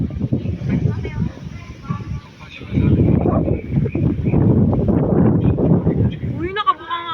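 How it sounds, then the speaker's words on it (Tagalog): Outdoor wind buffeting the microphone, low rumbling gusts that swell and fade, mixed with voices and laughter from people talking nearby during a film-location tour. "Sarap ng hangin dito."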